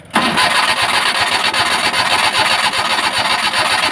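A Maruti Omni van engine cranks without catching, the starter's rhythmic churning rumble running loud and unbroken after a brief start.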